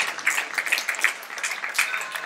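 Audience applause for Sifu at a hip-hop gathering, a dense patter of many hands clapping at moderate distance, steady for a couple of seconds with no speech over it.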